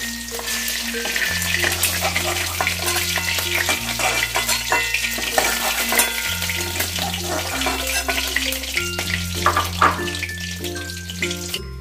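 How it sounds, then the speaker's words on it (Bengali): Bay leaf and garam masala frying in hot oil after fish, a loud continuous sizzle with occasional stirring clatter, close up, with no talk. "এবার দেখো ওই তেলের মধ্যেই আমি তেজপাতা একটাকে দুভাগ করে দিলাম আর দিলাম গরম মশলা"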